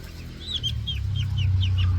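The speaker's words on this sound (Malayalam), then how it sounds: "എൻ്റെ കോഴിക്കുഞ്ഞുങ്ങളാണ് കേട്ടോ." Young chicks peep in a quick run of about eight high, falling chirps, close and clear over a low, steady hum.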